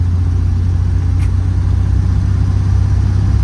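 A car with an overdrive fault driven in fourth gear, its engine humming loud and steady with a deep, even drone and no change in pitch.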